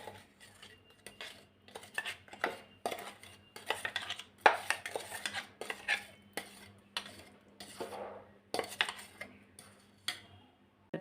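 Wheat flour biscuit dough is mixed by hand in a bowl, giving a steady run of small knocks and clicks against the bowl for about eleven seconds, close and fairly quiet, with no talking.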